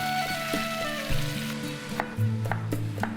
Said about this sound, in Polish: Na głębokiej patelni lub garnku rozgrzać olej, wrzucić mięso i utrzymując dość duży ogień, smażyć przez kilka minut bez mieszania.